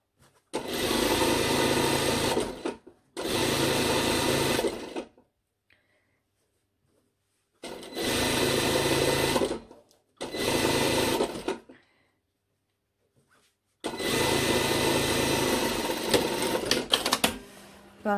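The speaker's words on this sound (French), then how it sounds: "J'assemble mes côtés 1 cm avec un point d'arrêt début et fin." A sewing machine runs in five separate bursts, sewing jacket side seams at 1 cm with backstitching at the start and end, with short pauses and silence between runs.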